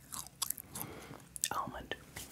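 Close, quiet chewing of cashew nuts, with soft bites and a few moist crunches in an irregular rhythm, heard alone without speech.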